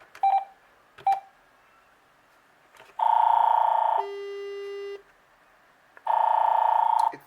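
A VTech CS-6858 DECT 6.0 cordless phone sounds intercom tones for paging a handset: two short keypress beeps, then a long loud tone, a lower steady tone, a pause and another long tone, heard clearly and alone.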